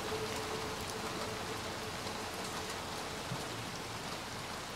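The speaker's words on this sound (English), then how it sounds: "It is raining." Steady rain falls in the video game Little Nightmares II, a dense, even hiss of drops on surfaces that holds at a constant level throughout, with no voices over it.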